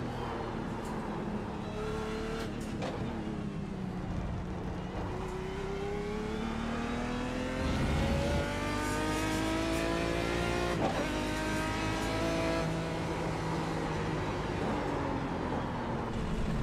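A GT1 race car engine in a sim racing game revs up and down through the gears, with a steady mid-level drone, rising and falling pitch sweeps and occasional faint tire noise, heard alone without talk.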